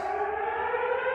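Civil defense-style sirens wail at the opening of a WWE Survivor Series 2023 broadcast in Chicago, a loud, steady, sustained tone with no talk over it.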